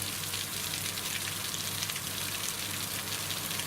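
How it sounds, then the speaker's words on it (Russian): Summer rain in Siberia falls steadily, a dense close hiss of drops on surfaces that carries on evenly throughout without a break. "Смотрите, дождик хреначит."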